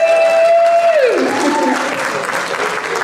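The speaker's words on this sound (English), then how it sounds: "So let's all welcome Joan with a massive round of applause." Audience applause and cheering welcoming a speaker on stage at a child protection conference in Wales, a dense, steady burst of clapping from a large room that carries on throughout.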